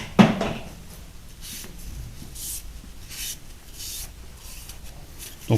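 A metal surface of a milling machine dividing head is deburred and wiped clean by hand, soft intermittent scraping and rubbing strokes with a sharp clunk at the start and end, close and without talk.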